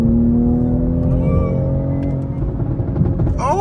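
A Toyota Supra's engine hums close and steady as the car drives, a low drone holding level and then starting to rise near the end.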